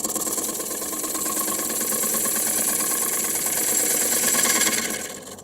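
Wood lathe spinning at about 600 to 800 RPM with a cup tool on wood, giving a steady, close mechanical hum with rhythmic vibration that holds level and fades slightly at the end.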